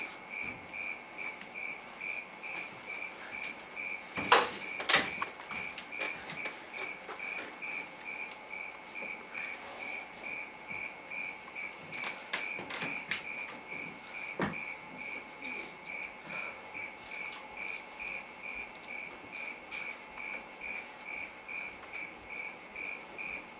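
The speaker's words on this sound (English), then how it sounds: "Those are the most monotonous fucking crickets I ever heard in my life." Crickets chirp steadily in a monotonous, continuous drone, moderately close, with a couple of brief louder knocks early on and no talking.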